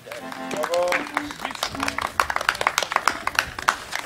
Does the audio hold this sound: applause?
yes